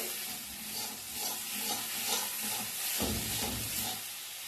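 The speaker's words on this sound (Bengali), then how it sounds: "যতক্ষণ না তেল ছাড়ে ততক্ষণ এটা কষাতে হবে" Ghugni masala sizzles and hisses steadily in hot oil as it is stirred and cooked down, a continuous close frying sound with soft scraping pulses and no voices.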